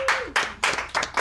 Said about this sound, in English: anyone with their hands free, feel free to clap